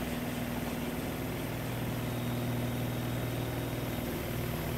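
An STI ST-880 spin rinse dryer ramps up into its purge cycle, a steady close whirring hum with a low droning tone and a thin high whine, continuous and alone.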